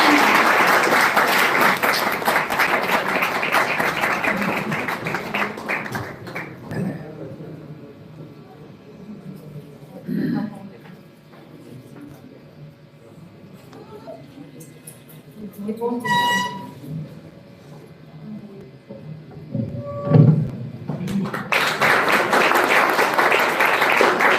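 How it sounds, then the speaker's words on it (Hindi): An audience at a motivational speaking event bursts into loud sustained applause to welcome a speaker. The clapping fades into a quieter stretch with scattered voices and sounds before strong applause swells again at the end. "जोरदार ताली के साथ स्वागत कीजिएगा।"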